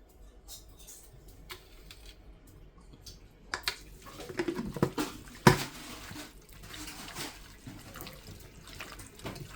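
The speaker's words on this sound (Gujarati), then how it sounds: "પાણી નાખવાનું એમાં." Water is poured into a pressure cooker holding fish: quiet at first, then a splashing, gurgling pour with a few metal clinks and knocks, fairly close.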